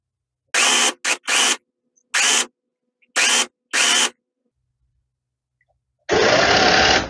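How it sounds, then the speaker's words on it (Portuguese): Bursts of a sewing machine stitching the hood onto a safari-print hooded towel, several short runs in a stuttering rhythm, then a longer steady run at the end, close and fairly loud with no talk. "O capuzinho tá para baixo e eu tô fazendo a costura assim."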